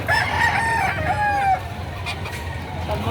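A rooster crows among chickens offered for sale at a livestock market in Padre Garcia, Batangas, its call close and loud for about a second and a half before fading into a murmur of background market noise.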